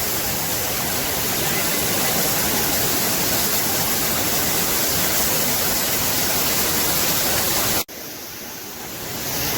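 Dukkar Kada, a large waterfall at Donawade, roars as a loud, steady wash of falling water close by, then cuts abruptly and returns slightly quieter near the end.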